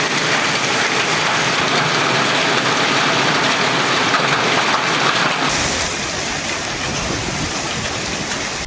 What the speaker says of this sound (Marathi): अनेक ठिकाणी अवकाळी पाऊस झाला